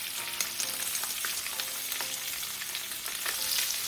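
Green beans frying in oil in a pan, a dense continuous sizzle with crackling pops throughout, close and fairly loud with no talking.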